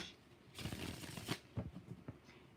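Tarot cards are shuffled by hand close up, several quick papery riffle bursts following one another over a couple of seconds in a quiet room.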